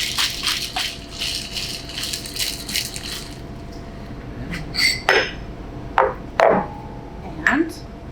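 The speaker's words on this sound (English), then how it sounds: "Combine. Shake." A rum cocktail with water is shaken in a shaker, giving rattling ice and metal clatter in quick bursts, loud and close, with a few sharp clinks and knocks near the end.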